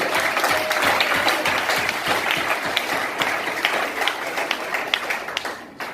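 A church congregation applauds steadily in dense, sustained clapping that tapers slightly at the end, with no speech over it.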